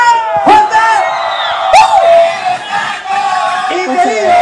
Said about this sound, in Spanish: Fuerte un grito para Yarita Lisset Yanarico, Quispe